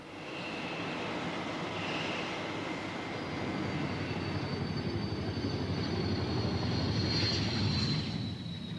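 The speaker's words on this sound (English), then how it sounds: "The aging Hunters at Boscombe Down remain the only swept-wing aircraft in the world" Aging swept-wing Hawker Hunter jet in flight over Boscombe Down, a steady broad roaring rumble with a thin whine above it, holding loud and even throughout.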